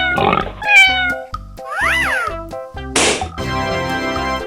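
Cartoonish cat meows in a 3D animal video game, a couple of bright stretched calls mixed with thumps, whooshes and other game sound effects over a backing tune.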